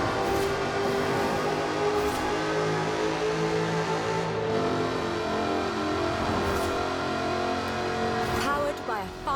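Supercharged 5-litre V8 engine of an aluminium-bodied sports car in a racing video game, droning steadily throughout with rising and falling revs and a brief climb near the end, with talk over the top.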